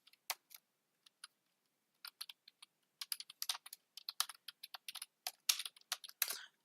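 Computer keyboard being typed on while entering C program code, sparse clicks at first and then a quicker, denser run of keystrokes, close and crisp with no talking.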